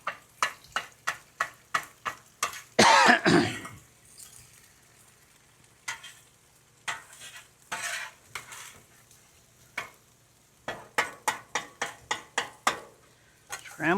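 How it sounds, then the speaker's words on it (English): Eggs scrambled on a Blackstone flat-top griddle with a metal spatula: a rapid series of sharp scraping and tapping strokes, a brief loud sizzle burst, then pauses and more quick clustered scrapes, close and clear with no talking. "You just want to kind of scramble them eggs up."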